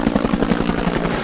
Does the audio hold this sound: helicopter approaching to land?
yes